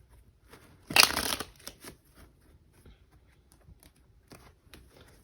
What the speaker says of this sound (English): Going to give this a quick shuffle, even though everything is pre-shuffled here.